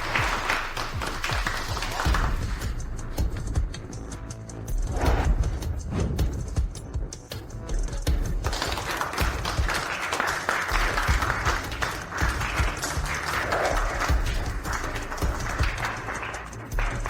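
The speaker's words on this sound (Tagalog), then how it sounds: "Bigyan natin sila ng isang malakas na palakpak." Loud sustained applause from an audience for designers on stage, a dense continuous roar of clapping that swells and holds throughout with faint crowd noise beneath.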